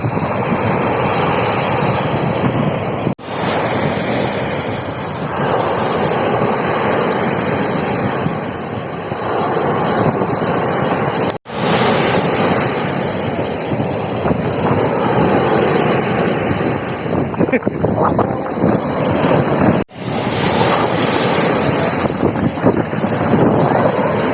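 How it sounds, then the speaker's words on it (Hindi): Ocean surf rolls loudly and steadily onto the beach at Bujumbura, Burundi, with a continuous roar of breaking waves and heavy wind buffeting the microphone throughout. "और ये लहरें बहुत उठ रही हैं आज।"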